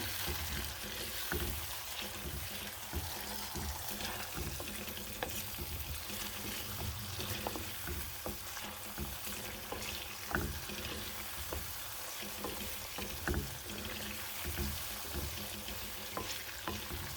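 A Tunisian sauce stirred in a pan on the heat, with a steady bubbling sizzle throughout and repeated soft scrapes and clicks of the spoon against the pan, close up and without talk.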